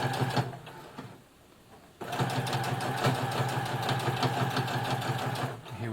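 A Brother FS60X sewing machine stitches through a thick denim jeans hem in a fast, even mechanical whir, pausing for about a second before starting again and running on steadily.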